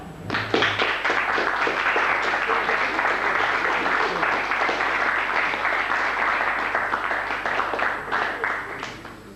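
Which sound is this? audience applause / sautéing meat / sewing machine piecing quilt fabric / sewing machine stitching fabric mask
audience applause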